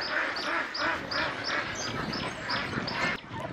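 Vân Đình grass ducks on a Vietnamese duck farm quack in steady overlapping bursts, a dense flock nearby and fairly loud, continuing without pause.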